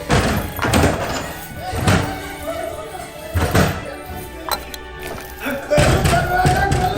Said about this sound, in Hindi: अरे दरवाजा किया बंद कर देली?